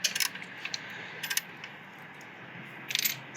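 Metal tools clink and ratchet while bolts are tightened on a 1994 Suzuki Katana motorcycle, a few short close clicks at the start, midway and near the end over quiet background hiss.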